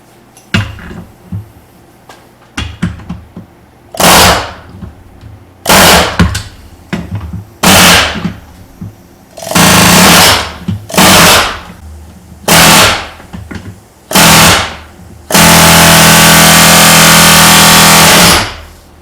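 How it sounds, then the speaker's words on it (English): Loud air hammer bursts on an Arctic Cat 4X4 golf cart shifter linkage, in repeated short blasts, then one long sustained run at the end, with brief quiet gaps between the bursts. "So we'll get out the air hammer."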